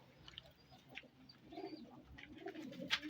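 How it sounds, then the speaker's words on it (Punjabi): A khaki Ferozpuri pigeon coos softly nearby, low throaty rolling phrases that build slightly toward the end, in quiet surroundings without speech. "ਇਹ ਕਬੂਤਰ ਬੜਾ ਵੇਖਣ ਵਾਲਾ ਜੀ, ਖਾਕੀ ਫਿਰੋਜ਼ਪੁਰੀ ਕਬੂਤਰ ਮਾਸ਼ਾਅੱਲਾ"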